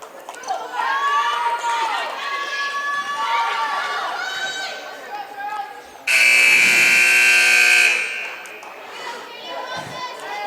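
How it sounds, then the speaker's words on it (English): At a girls high school basketball game, the courtesy buzzer blares loudly for about two seconds over a gym full of crowd noise, squeaking shoes and talk. "They get another courtesy buzzer."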